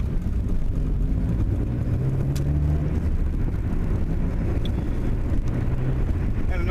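Manual 1999 Ford Escort ZX2 driving on a cold morning, with a steady low engine drone and road noise inside the cabin, moderately loud with some wind rush.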